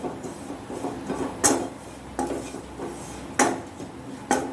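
Spices with chilli powder are sautéed in a pan for vada pav filling, with a series of spaced, distinct spoon scrapes and knocks against the pan over faint background noise and no speech.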